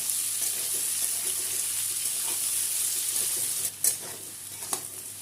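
Potato and papaya pieces fry over high flame in a pan for a Bengali shukto, giving a steady even sizzle throughout with a couple of sharper clatters of stirring near the end.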